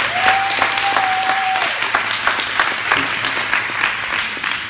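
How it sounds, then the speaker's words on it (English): An audience applauds at a mindset workshop event, steady clapping from many hands filling the room at full volume throughout, with a brief tonal whistle-like note early on. "everybody clap it up for being here today"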